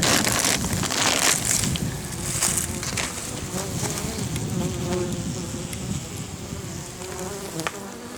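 Honeybees buzz around a hive, a constant close swarm drone with individual insects flitting past, loudest near the start.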